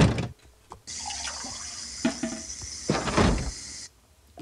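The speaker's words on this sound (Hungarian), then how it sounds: "Ezt vidd és rakj bele a vizet." Water runs steadily from a tap in a Toca Boca cooking game, a near, hissing pour lasting about three seconds between short clicks, alone without speech.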